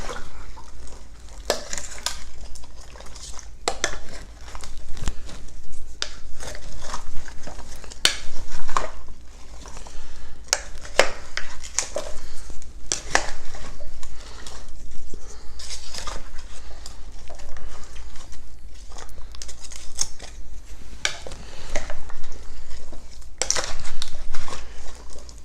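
Hunter's stew with fresh ingredients stirred in a crock pot, a steady scraping and clinking of utensil against the pot with occasional sharper knocks, close and fairly loud, no talking.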